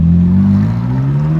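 A Ferrari 458 with an open exhaust revs on the streets of Monaco, giving a loud, close engine drone whose pitch dips briefly and then climbs again. The burst is short and heard alone, with no voices.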